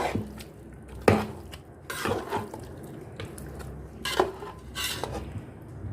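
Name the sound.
mixing spices into beef chops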